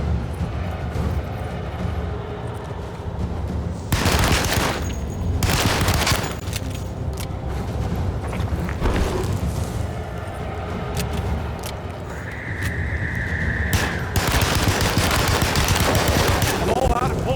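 Gunfire in the video game Alone in the Dark, loud dense bursts of shots and booms, with several longer barrages among ongoing game noise.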